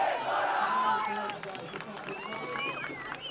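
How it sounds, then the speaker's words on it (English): A Thomian school crowd cheers and shouts at a water polo match, a dense roar of many voices from a distance that eases off slightly, with whistles and a commentator talking over it. "So Thomian crowd really happy with themselves here."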